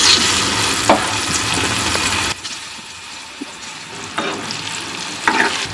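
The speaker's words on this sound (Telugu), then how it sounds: "నూనె కాగిన తర్వాత మనం డీప్ ఫ్రై చేసుకుందాం" Sweet potato pieces deep frying in hot oil, a steady loud sizzle and bubble that drops off sharply midway, then continues softer with occasional scraping stirs.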